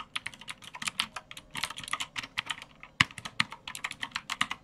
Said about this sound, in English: I've just heard the click of the keys.